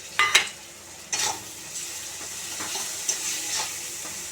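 Chicken masala with chopped tomato stirred and fried in a pan, a soft steady sizzle under a few sharp scraping strokes of a spoon against the metal, close by, with no talking.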